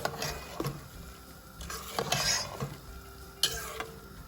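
A spice mixture for chicken resha shami kabab being stirred in a cooking pot, with scattered scrapes and soft metallic clinks of a spoon against the pot over a faint simmer.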